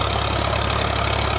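A tractor engine runs steadily at close range, a continuous loud mechanical drone with a low rumble and no break.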